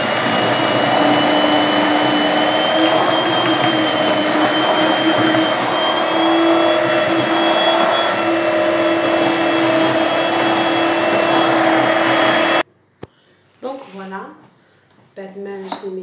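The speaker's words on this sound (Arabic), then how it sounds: "ونبدا نميكسيه" An electric blender crushes peppers into a chili paste with a loud, steady, high-pitched whine that runs unbroken before cutting off abruptly, after which a voice speaks.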